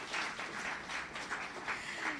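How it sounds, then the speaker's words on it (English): Applause from a room of attendees at the launch of the 2022 Multiple Indicator Cluster Survey report, a steady, moderately quiet patter of clapping that keeps up for the whole stretch. "Round of applause for that team too."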